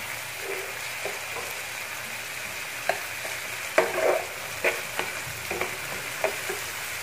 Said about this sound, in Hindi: सबसे पहले प्याज में फ्राई कर रहे हैं।